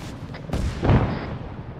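An explosive charge goes off in the military shooter Arma 3, a single heavy boom with a rumbling tail fading over about a second, loud and close with no talk.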